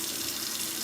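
Tap water runs steadily from a faucet in a metro Atlanta home, a close, continuous rushing stream with no voices.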